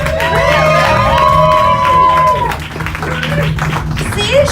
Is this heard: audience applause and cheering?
yes